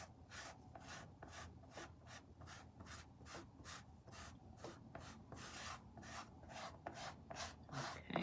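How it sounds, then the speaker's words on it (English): Rhythmic wooden scraping at the bottom of a Christmas tray, about a dozen steady back-and-forth rasping strokes, close and fairly loud, with no talking. "I'm literally scraping here at the bottom."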